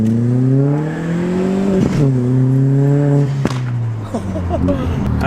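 A high-mileage VW Golf fitted with a KO4 turbo, around 230,000 miles, revving hard with rising and falling harmonic engine tones and sharp throttle blips, loud and close, with voices talking over it.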